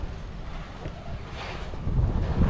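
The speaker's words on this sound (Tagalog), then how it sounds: "Lakas ng hangin dito." Strong wind buffeting the microphone in a steady, rumbling roar that grows slightly louder toward the end.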